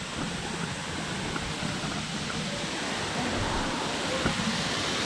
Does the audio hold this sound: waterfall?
yes